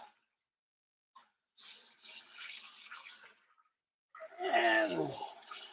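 Cold water runs from a tap in short bursts during cast iron Dutch oven cooking, a close splashing stream that starts, stops and returns louder, with nobody talking over it.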